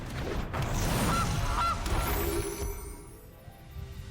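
A goose honk sound effect from the Gilded Goose card in the digital card game MTG Arena, two short nasal honks rising over a loud, busy game soundscape, with no talking.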